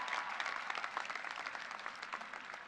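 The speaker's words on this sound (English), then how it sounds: "clap it up for that." Graduation audience at a college commencement breaks into steady, dense applause, a broad wash of many hands clapping at moderate distance throughout, with no voices standing out.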